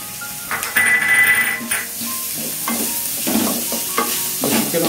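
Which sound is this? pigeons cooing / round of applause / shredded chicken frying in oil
shredded chicken frying in oil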